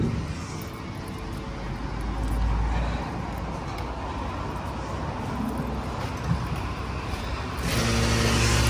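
Mercedes 308D motorhome engine drones steadily while driving, a continuous low rumble with road noise throughout, swelling slightly louder near the end.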